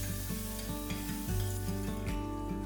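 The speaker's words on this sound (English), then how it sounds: "Then I added tomatoes, turmeric and salt and cooked until the tomatoes softened." Tomatoes with turmeric and salt cook in ghee for a vegetarian thali, a soft sizzle with regular spoon scrapes and stirring taps close by, under a continuous tonal background and no talk.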